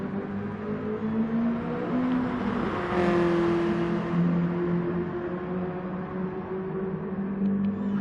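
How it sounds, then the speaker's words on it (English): BMW M3 race cars power out of the last corner to the finish at Fuji, a loud sustained engine roar with shifting pitch as they sweep past at some distance. "coming around the last corner now to finish the race"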